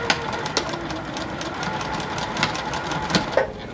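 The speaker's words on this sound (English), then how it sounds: "Back stitch a little bit." A sewing machine back-stitching a pleat on a puff quilt block, a steady close motor whir and needle chatter running throughout with a few brief louder knocks.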